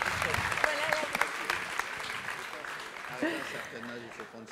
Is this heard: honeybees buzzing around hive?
no